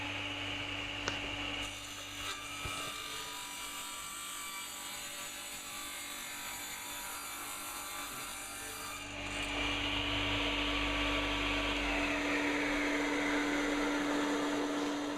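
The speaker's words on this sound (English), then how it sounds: "instead I'm going to use my radial arm saw" A radial arm saw cuts a 45-degree miter through oak for an upcycled mirror frame. The motor holds a loud, steady whine, then rises into a fuller, harsher roar as the blade bites into the wood.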